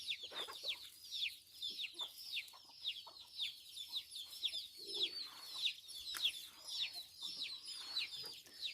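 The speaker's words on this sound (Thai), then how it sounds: "เจ้าเกลือและเป็ดไก่เนี่ย" Chickens cluck and a rooster-like voice calls repeatedly near and far among ducks, a steady chorus of bright clucks and squawks running without pause, with no talking.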